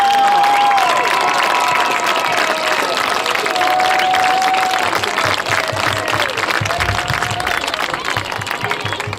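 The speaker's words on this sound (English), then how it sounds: "Please give this group a big round of applause." A crowd in the stands at a varsity high school football game applauds and cheers for seniors and their parents, sustained clapping that is loud at first and slowly thins, with a voice briefly audible over the crowd.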